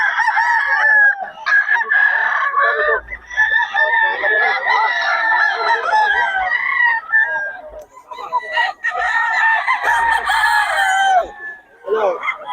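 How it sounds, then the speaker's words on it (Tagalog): Several roosters crow one after another, loud and close, with long drawn-out calls overlapping and a few clucks between them. "3K mga idol ang mga manok ni boss."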